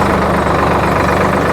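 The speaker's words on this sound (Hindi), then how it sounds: "ट्रैक्टर मेरा आइडल आरपीएम पर ही चल रहा है" A Preet 6049 tractor engine of about 60 hp idles nearby in gear at idle rpm, with a loud, steady, heavy low rumble and a constant throb and no voices.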